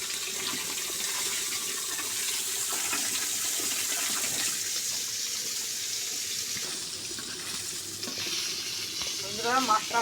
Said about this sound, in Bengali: ভাজা আমার হয়ে গেছে আমি তুলে দিচ্ছি